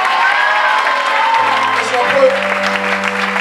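A church congregation applauds and cheers in a loud, sustained wave, with whoops and shouts over steady clapping, while someone speaks briefly and a sustained organ-like tone enters partway through.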